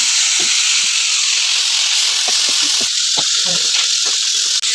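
Tomatoes are added to onion, chilli and garlic frying in a pan, giving a loud, steady broad sizzle and hiss throughout with scattered small pops and crackles.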